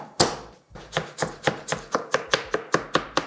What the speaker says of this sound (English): Mincing some ginger as well.